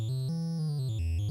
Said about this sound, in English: That's the triangle wave.